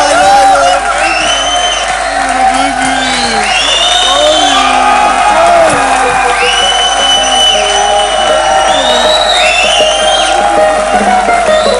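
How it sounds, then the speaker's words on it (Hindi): A large audience at a televised bridal pageant event in India claps loudly and cheers, with whoops and shouts rising over sustained applause throughout, close and continuous. "जोरदार ताली हो जाए देश के लिए"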